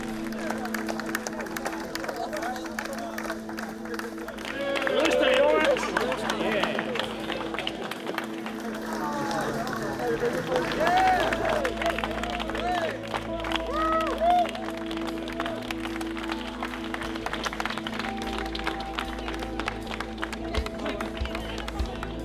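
Applause from an award-show audience for Steve Vai at the Sena European Guitar Award, a swell of clapping and cheering in a hall that rises midway and then fades, with voices talking over it.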